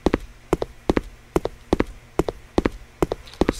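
Running footsteps of a character in the horror video game Haunted Gas Station, a quick regular patter of paired thumping steps, close and clear, repeating steadily throughout with nothing else over them.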